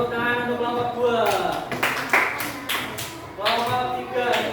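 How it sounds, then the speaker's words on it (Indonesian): Children in a classroom clap for a group of classmates, with bursts of brisk, uneven hand-clapping that come and go while young voices chatter and call out over them. "tepuk tangan untuk kelompok 2"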